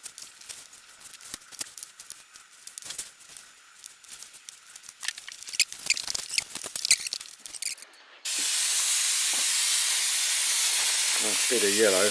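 An aerosol spray paint can hissing continuously and loudly for several seconds up close, following a stretch of softer rustling and handling noises during painting work.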